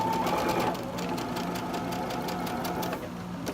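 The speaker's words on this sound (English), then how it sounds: "And you just want to sew right on the line." A sewing machine stitches fabric along a marked line, its fast steady needle chatter running close and loud for a few seconds before easing off.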